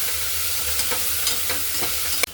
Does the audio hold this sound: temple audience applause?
no